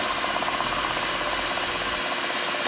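Electric stand mixer whipping a homemade mango ice cream base, a loud, steady, close whirring drone that cuts off abruptly near the end, with no talking.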